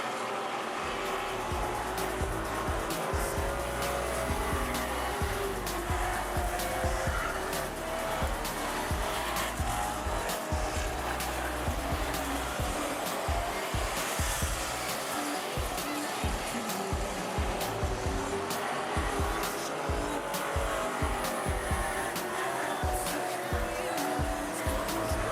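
AMCA race cars at Rockhampton Speedway, engines roaring continuously at a distance with rising and falling revs as the pack circles the track, a commentator talking over the noise throughout.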